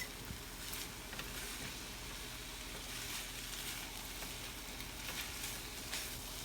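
Rice frying in a pan over medium heat for Chinese fried rice, a steady low crackling sizzle running evenly throughout at moderate distance with no talk.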